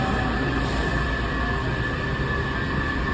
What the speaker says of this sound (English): Vienna train's here, finally.